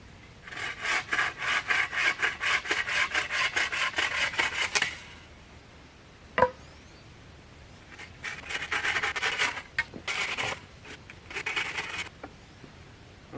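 Rasping, rhythmic sawing strokes as wooden sticks for a bushcraft firewood shed are trimmed to even length, a fast burst of strokes then a sharp knock and more intermittent rubbing bursts, close and clear.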